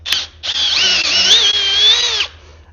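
A power drill fitted with a vortex tipped bit whirs at slow speed, starting briefly, pausing, then running steadily for nearly two seconds before stopping, loud and close with a wavering high whine.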